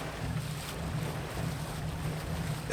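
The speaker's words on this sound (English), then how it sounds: "The riverboat passes close to the shore," A riverboat passing close to the shore, heard as a steady low engine hum pulsing beneath a constant wash of wind and water, with no talking.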